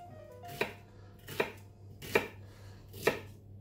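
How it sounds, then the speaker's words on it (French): Celery being chopped into small pieces with a kitchen knife on a board for a brown veal stock: four distinct, evenly spaced sharp chops, close and clear, with quiet room tone between them. "on va couper le céleri en petits tronçons également"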